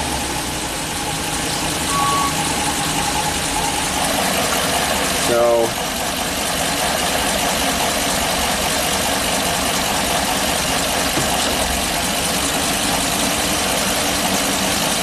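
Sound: Ford E450 bus with swapped V10 engine idling

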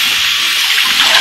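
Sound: water being poured into a pan of apples

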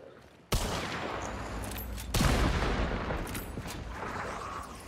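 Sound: gunfire in Hunt: Showdown video game

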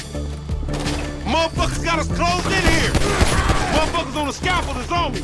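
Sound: gunfire in the video game GTA 5

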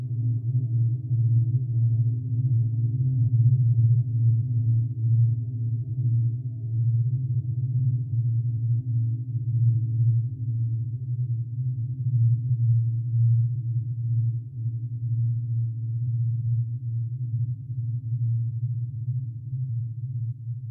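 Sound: tones of a vibrating cup

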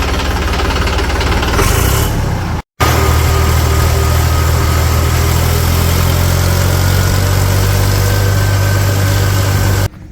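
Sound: tractor engine idling

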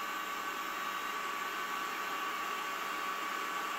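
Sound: turbo barrel cooler fan blowing air

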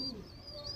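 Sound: Andhra pigeon cooing

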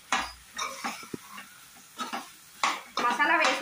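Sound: stirring garam masala into chicken curry in a pan

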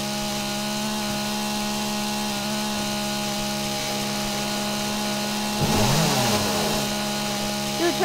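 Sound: chainsaw running in the video game 7 Days to Die

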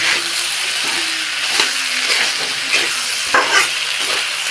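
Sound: frying potatoes and capsicum in a pan

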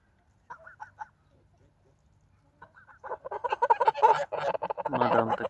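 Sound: young goose honking

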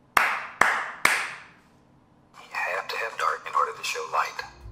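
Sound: hands clapping three times to switch on the Clapper nightlight

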